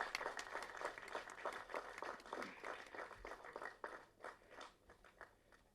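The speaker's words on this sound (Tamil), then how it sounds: "வாங்க நல்ல பலத்த கரகோஷம் கொடுங்க." An audience at a Tamil film event claps in a scattered, uneven burst, many hands patting at low volume and thinning out toward the end.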